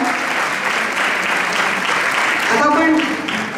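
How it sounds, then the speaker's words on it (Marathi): An audience at a Marathi stage event in New Jersey gives steady, loud applause. Some voices carry over the clapping near the end. "पुन्हा एकदा जोरदार टाळ्या."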